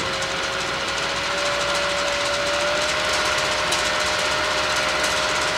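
A 6-inch Hyper Fan inline duct fan runs at 50% speed, giving a steady, even whoosh of airflow with a faint constant motor whine, continuous and close with no talking.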